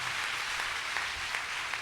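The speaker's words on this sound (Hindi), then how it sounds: "जब तक सुनील अग्रवाल जी मंच पर हैं तब तक ये तालियां बजती रहनी चाहिए" A crowd in a pandal at an annual festival in Allahabad applauds continuously, a soft, even, distant-sounding patter of many hands with no pauses.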